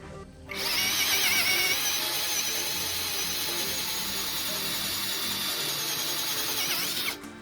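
An electric drill whirs steadily at speed setting 1 for several seconds, starting and stopping abruptly, loud and close with no talking, during a review of a budget power drill.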